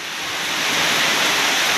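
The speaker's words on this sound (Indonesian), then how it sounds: "Hujan lebat" Heavy midday rain pours over the village of Suka Maju in Simeulue, Aceh, a dense, steady hiss that swells slightly and then holds loud and unbroken.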